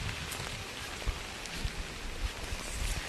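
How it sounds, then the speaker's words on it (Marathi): Rain falls steadily on a village on a wet day, a dense even hiss with faint scattered drops and soft low thumps throughout, no voices. "पाऊस पडतोय."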